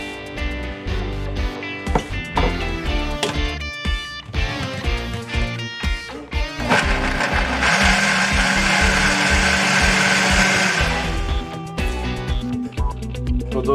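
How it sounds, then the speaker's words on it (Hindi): A kitchen blender whirs loud and close as it blends mango, milk and jaggery powder, with clattering at the start and a steady high-pitched grinding roar through the middle. "अब बाकी चीज़ें भी ब्लेंडर में डाल के इसको ब्लेंड कर लेते हैं।"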